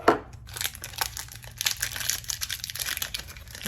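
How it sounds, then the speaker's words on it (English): Protective tape peeled off an HP ENVY 6455e printer ink cartridge, a close crinkly tearing and crackling run of small bursts lasting a few seconds, alone and fairly quiet. "There's protective tape on here, and you're just gonna take that off."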